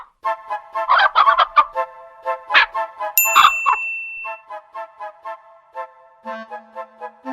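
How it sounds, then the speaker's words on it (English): Four speckled hens clucking in a children's story about a gigantic turnip: bursts of bright, chirpy clucks over ringing chime and bell tones, loud and close, ending in softer low notes. "speckled hens."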